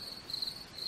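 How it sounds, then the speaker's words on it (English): Crickets chirp steadily in the background of a Minecraft Halloween map game, a thin, continuous high-pitched trill with no voices over it. "You hear the thingy in the background, right? Yeah, the crickets."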